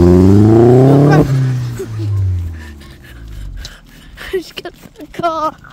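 Vauxhall Astra VXR engine revving up loudly, rising in pitch, then dropping away after about a second, followed by quieter idling with voices talking and exclaiming over it.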